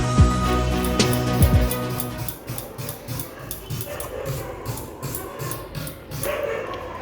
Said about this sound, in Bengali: বাইরে আজকে কিছু কুকুর ডাকছে।